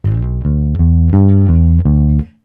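Blues bass fill built on the major pentatonic forward position shape: a short run of distinct, clearly plucked notes, each sustaining briefly before the next, played alone and up close without talk.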